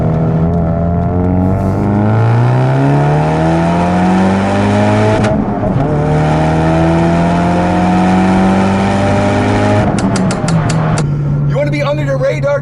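A 2017 Ford Focus RS engine revs hard through rising gear pulls, with crackling exhaust pops bursting near the end; loud and close throughout.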